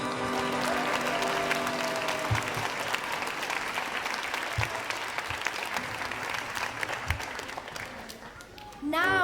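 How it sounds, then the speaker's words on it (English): Sustained, full applause from the audience at an international school's Grade 5 annual day show, with brief voices mixed in and a few thumps, tapering slightly toward the end. "A round of applause, everybody."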